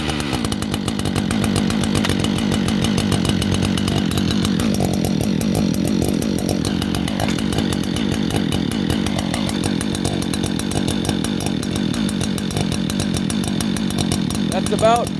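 A lightly ported Husqvarna 555 chainsaw idles loudly and close, its engine putting out a rough, rapid continuous burble with a slight roughness, steady for the whole stretch.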